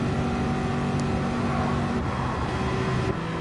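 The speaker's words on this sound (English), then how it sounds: "It's a high-pitched wail versus the low grumble of the Corvette." GT3 race cars from a racing game roar steadily at full throttle along the straight, a continuous loud engine drone with a high-pitched wail layered over a lower grumble, heard alone without talk.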